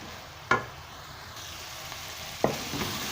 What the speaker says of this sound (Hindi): आवाज़ मां तव्हांखे लॻंदो हूंदो त हीउ सुठी तरह भुॼे पियो